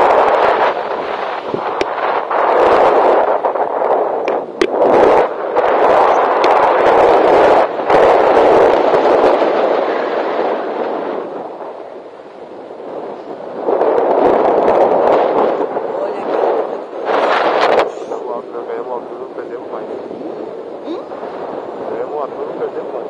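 Wind buffets the microphone during a tandem paraglider flight at Pico Santos in São Vicente, a loud, gusting rumble that swells and fades in waves across the whole stretch.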